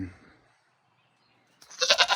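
A goat buck on a farm on a late winter morning gives a short, loud bleat at the end, following a brief low voice and near silence.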